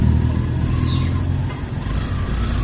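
Motorcycles and cars rush past on a highway, a loud continuous low engine roar close by with faint high whines from passing vehicles, heard from a moving ride and with no talk.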